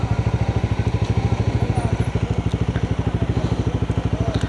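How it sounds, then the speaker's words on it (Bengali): A motorcycle engine idles close by at Keokradong, a loud, steady, fast chugging pulse that holds evenly throughout with no talk over it. "ওরে ভাই ব্রাদার, কত সব গাড়ি আর গাড়ি, সব মোটরসাইকেল আর মোটরসাইকেল"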